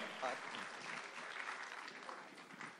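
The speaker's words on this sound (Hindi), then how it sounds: "एक बार जोरदार तालियां विनोद सर के लिए" Audience applause for a guest at a film trailer launch event, a faint, sustained patter of many hands with voices murmuring underneath throughout.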